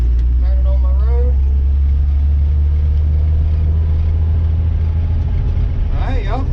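Abandoned 1957 Chevy long neglected, engine running low and steady while driving in second gear, close and loud, with people talking over it.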